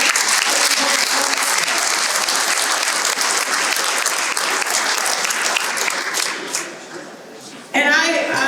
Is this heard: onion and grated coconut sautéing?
no